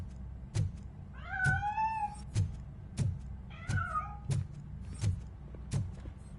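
A cat hidden inside a piano in RoboCop: Rogue City gives two drawn-out meows, heard alone and clearly among a series of regular low thumping knocks.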